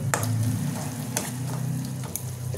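Masala simmers and fries in a wok with a soft, steady sizzle and bubbling, broken by a few sharp scraping clicks of stirring, close and fairly quiet with no talk.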